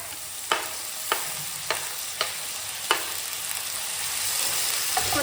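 Onions and finely chopped tomato frying in a pan, a steady sizzle with several sharp clinks of a spoon stirring at irregular intervals, close and moderately loud with no voices.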